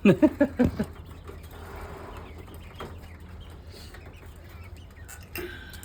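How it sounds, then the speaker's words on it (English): A young rooster chick calls in a quick burst of four or five high, strained chirps, then falls quiet against faint background noise. "you hear that? That to me sounds like a male."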